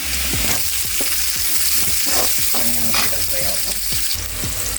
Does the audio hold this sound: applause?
no